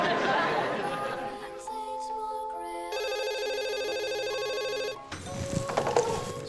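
A telephone rings with a steady electronic tone pattern lasting a couple of seconds, set among background murmur and a television-like mix before and after.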